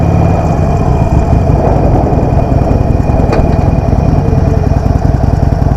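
A 2016 Harley Davidson Sportster Iron 883 motorcycle engine rumbles loud and steady while being ridden, with constant low-pitched drone and wind-like noise throughout.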